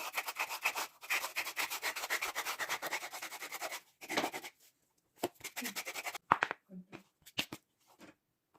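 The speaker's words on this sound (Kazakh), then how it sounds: "мынау аяқ киімнің қазір шетін қырғанға ыңғайлы, осылай тегістеп, әдемі ғып" Construction sandpaper rubs over the edge of a slipper sole in quick, rhythmic back-and-forth strokes, close and crisp, then breaks into sparse, irregular scrapes with pauses.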